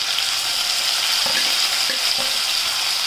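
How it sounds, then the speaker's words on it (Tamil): Onion and a little tomato frying in a pan, a steady broadband sizzle with several brief stirring scrapes partway through, close and fairly loud with no one talking. "கொஞ்சமாக வெங்காயம் கொஞ்சமாக உப்பு சேர்த்துக்கிறேன் வதங்கிருக்காங்க. இதில் கொஞ்சமாக தக்காளி சேர்த்துக்கிறேன்"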